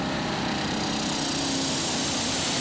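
Modified pulling tractor Big Mama 2 with two turbocharged V8 diesels under full load on the track at Brande, Denmark, a dense unbroken high-pitched engine roar filling the whole stretch, loud and close.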